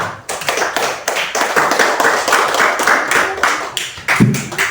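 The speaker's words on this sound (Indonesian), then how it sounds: "Ayo kasih tepuk tangan untuk kawannya." Schoolchildren in a classroom clap for their classmates, uneven bursts of hand claps with short gaps, close and fairly loud, ending with a thump.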